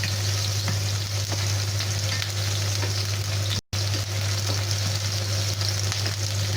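Chopped garlic and onion frying in a pan make a dense, steady sizzle close up over a low constant hum, with a momentary cut of silence partway through.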